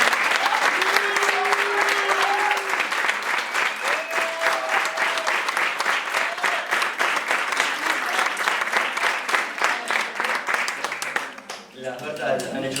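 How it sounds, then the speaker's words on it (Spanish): Loud, sustained applause from an audience at a book presentation for "Las revoluciones de Berta," a dense continuous clatter of many hands with a few voices calling out, tapering off just before a voice speaks at the end. "Les pido un fuerte aplauso."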